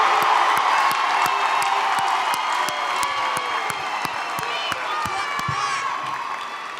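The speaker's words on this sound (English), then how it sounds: "Will the friends and other relatives of our candidates please stand and receive our applause?" A university commencement crowd of graduates' friends and relatives applauds and cheers in a large hall, a sustained roar of clapping with scattered whoops that slowly tapers toward the end.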